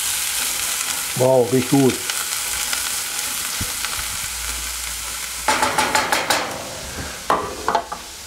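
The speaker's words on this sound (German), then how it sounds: "Ja, die lassen wir nur 2-3 Minuten brutzeln." Chopped spring onions sizzle in a hot pan for chicken teriyaki, loud and close, with scraping stirs and utensil clatters in bursts near the end; a person speaks briefly early on over the frying.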